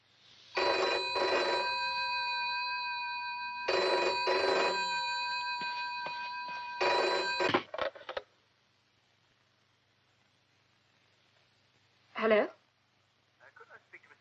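Old-fashioned telephone bell rings in three loud, sustained bursts, each a couple of seconds long, set in a 1971 vampire horror film; afterward a short, faint voice is heard in the quiet.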